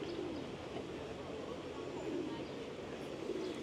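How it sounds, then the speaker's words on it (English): Doves cooing in a park, a soft steady murmur of calls blended into continuous outdoor ambience with background voices throughout. "as usual in Dove Park, all the doves, absolutely gorgeous little things"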